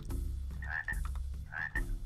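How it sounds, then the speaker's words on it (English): A frog croaks in a swamp in the video game Cow Quest, giving a few separate throaty calls with short gaps between them over a quiet background. "Frog."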